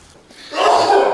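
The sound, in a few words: sneeze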